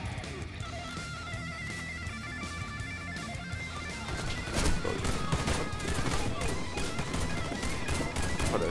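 Rapid gunfire bursts from a WarFace shooter match crackle in dense fusillades, growing louder and busier midway through, with steady background noise beneath.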